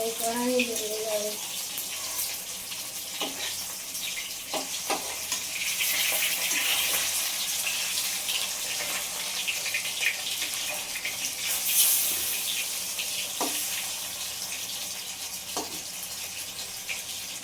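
Hilsa fish pieces fry in oil in a wok, a steady loud sizzling hiss that runs throughout with occasional scrapes and taps, brief voice sounds near the start.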